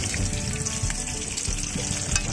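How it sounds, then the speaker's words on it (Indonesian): Birds frying in a pan inside a tent on a windy day, a steady close sizzle and crackle with small pops throughout. "Kita goreng burung peko,"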